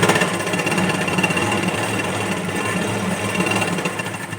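Sewing machine stitching a strip of fabric onto a blouse, a loud, steady rapid mechanical chatter running without pause from start to finish.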